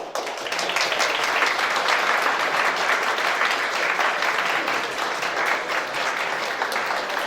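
Dense, steady applause from a large crowd at a Polish high school prom ball (studniówka) ceremony, with loud, continuous clapping throughout and no pause.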